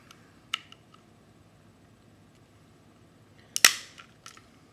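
A Glock pistol is being forced apart by hand during a detail strip without tools, giving a faint click and then a sharp, loud snap of parts popping free, with quieter ticks after, close and alone.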